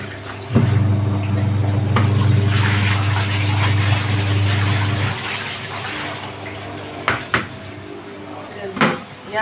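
Water pours into a container for homemade fabric softener, a loud, steady low rush for about four seconds that then stops, followed by a few scattered knocks and clatters.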